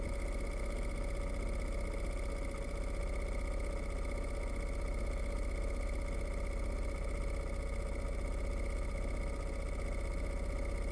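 Racing kart engines idle together at a Varna karting track while drivers wait for the start lights, a steady, loud mechanical drone that holds evenly for the whole stretch with no voices.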